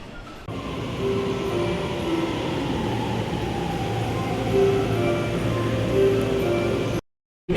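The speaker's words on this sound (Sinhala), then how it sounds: "දැන් මම මේ තෝකයිදෝ ලයින් එක තමයි යන්නේ." Ride aboard a Tokaido Line train heading toward Ginza in Japan, a steady close rumble of wheels and carriage noise with faint tonal whines, ending in an abrupt cut to silence.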